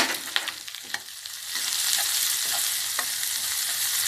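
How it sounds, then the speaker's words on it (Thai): Curry paste, coarsely pounded garlic and dried chilies stir-fry in olein oil in a wok, a steady close sizzle broken by scattered scrapes and clicks of the spatula, with no voices. "ผัดพริกแกงให้หอม กระเทียมโขกหยาบพริกแห้ง"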